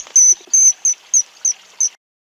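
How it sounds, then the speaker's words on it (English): Six bright, nasal duck quacks in a steady, evenly spaced series, loud and close with nothing else behind them. "Duck."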